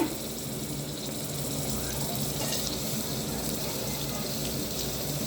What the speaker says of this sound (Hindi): अच्छी तरीके से 2-3 पानी में वॉश करेंगे ताकि इनका सारा स्टार्च निकल जाए